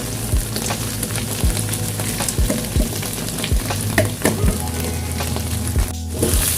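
Fried anchovies being stirred in hot oil over low heat for Medan-style sambal teri, a steady close sizzle broken by repeated sharp knocks of a spatula against the pan, with no talking.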